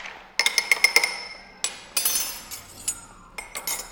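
Ice clinking against a glass mixing vessel as a Seelbach cocktail is stirred to chill it: a run of bright, sharp clinks and rattles, close and fairly loud, in irregular bursts with short pauses.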